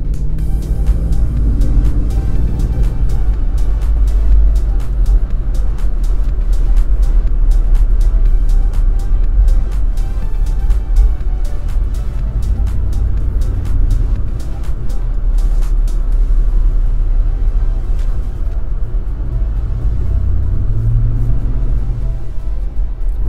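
A 2024 Ford F-250 XLT Super Duty truck being driven, a steady low engine and road rumble heard from inside the cabin, loud and continuous throughout.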